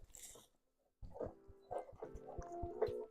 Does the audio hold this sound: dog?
yes